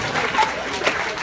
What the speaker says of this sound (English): let's give them a round of applause, round of applause, round of applause